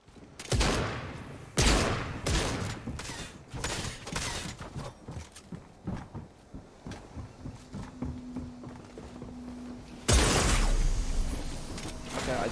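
Rapid bursts of video game gunfire from newly added weapons, with sharp loud volleys near the start and a heavy blast near the end, separated by quieter stretches of scattered shots and a low steady hum.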